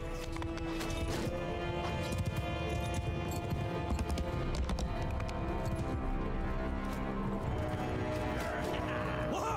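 Hooves of a horse pound in a rapid gallop in the medieval battle game Mount & Blade II: Bannerlord, dense and continuous beneath clashing combat noise and game sound.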